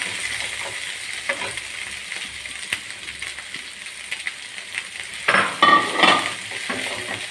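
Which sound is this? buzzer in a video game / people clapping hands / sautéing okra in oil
sautéing okra in oil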